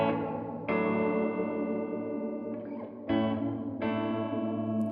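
Electric guitar chords ring out through a UAFX compact pedal set to a modulated room reverb, with sustained shimmering tails and a few fresh strums, with no talking.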